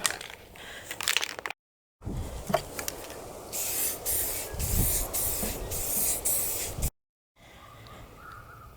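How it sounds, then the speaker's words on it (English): Purple gloss paint sprayed from an aerosol can onto workbench legs, heard as a steady close hiss in two long bursts separated by short pauses. "Got 2 coats of purple paint on the legs"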